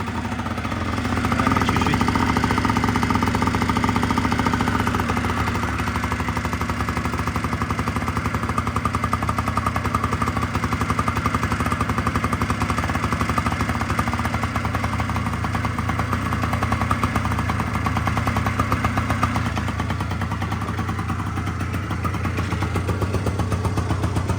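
A Honda Dio 100cc scooter engine runs on its first start, a loud continuous rapid putter with held high revs and slight fluctuations throughout, with no speech.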